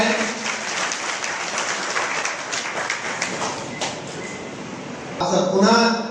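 Crowd at a political mass-contact rally in Piplarawan claps steadily for several seconds, dense and fairly close, with a voice breaking in over a loudspeaker near the end.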